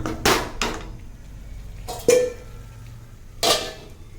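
Metal lid clinks onto a cooking pan on the stove while upma simmers, three or four sharp clanks spaced a second or so apart, close and fairly loud, with quiet between them.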